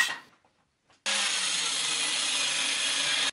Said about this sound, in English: I began by taking 4 of the pieces and making a relief cut along one edge.